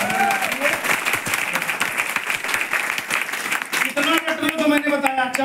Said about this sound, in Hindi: तो बचाओ वेस्टीज के लिए ताली।